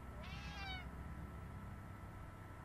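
A cat in the video game Friday the 13th Killer Puzzle gives one short, rising meow over a steady background hum of game sound.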